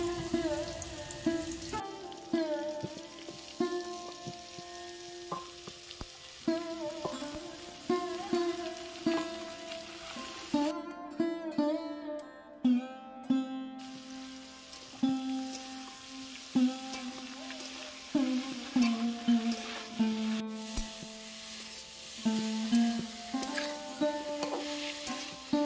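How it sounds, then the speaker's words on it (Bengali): Mixed vegetables (potato, carrot, beans, cauliflower, tomato) sizzling and being stirred in a pan while cooking masoor dal, with steady frying hiss and repeated spatula scrapes; background music plays throughout. "সব সবজিগুলো একটু নেড়ে চেড়ে নিয়েছি"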